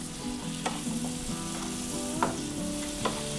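Butter chicken ingredients fry steadily in a pan with salt and black pepper, a constant sizzle broken by a few sharp clinks of a spoon against the pan, with no voices.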